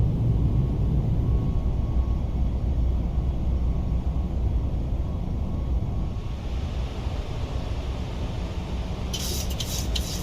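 A Boeing 737 MAX 8 airliner departs in Microsoft Flight Simulator 2024, its engines producing a steady loud low roar and rumble that eases slightly toward the end.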